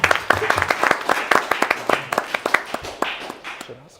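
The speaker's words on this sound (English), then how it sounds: "Give her a round of applause" Audience applause from a room of listeners at a live tech talk on RMF and GRC: a dense burst of hand clapping that thins into scattered claps and fades out over a few seconds, with some voices mixed in.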